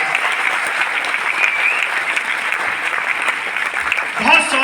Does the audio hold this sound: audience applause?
yes